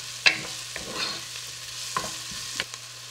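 Spices being stirred and fried in a pan for a Filipino pancit bihon, with a utensil scraping and clinking against the pan in several distinct strokes over a soft background sizzle, no voices.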